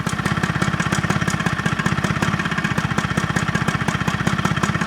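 A tired job-lot lawnmower engine with poor carburetion running roughly near idle, a close, loud, uneven chuffing beat with rapid rattling pulses repeating steadily throughout.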